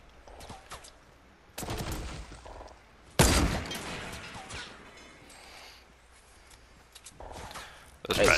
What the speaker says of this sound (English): They have a minigun.